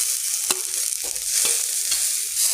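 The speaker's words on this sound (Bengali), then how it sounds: "এগুলোকে একটু ভালো করে একসাথে সব কিছু ভেজে নেব" Grated carrot, green chilli and tomato fry together in a pan, a loud continuous hissing sizzle broken by a few sharp scrapes and clinks of a stirring spoon.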